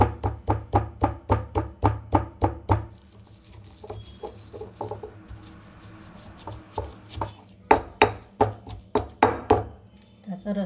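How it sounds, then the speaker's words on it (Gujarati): Garlic cloves and a piece of ginger pounded with salt in a mortar: a quick run of sharp, regular thuds close by, a quieter pause with light taps, then another burst of rhythmic pounding. "તો આ 10 થી 15 કળી લસણ લીધું છે અને 1 ટુકડો આદુનો. સ્વાદ પ્રમાણે મીઠું નાખશું અને હવે ઝીણું ખાંડી લઈશું."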